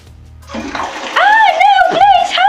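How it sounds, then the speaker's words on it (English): A toilet flushes up close and loud with a rushing swirl of water. A high, warbling, sung or cartoonish voice wails over the flush, rising and falling in pitch. "please don't tell me you're gonna flush me down the toilet"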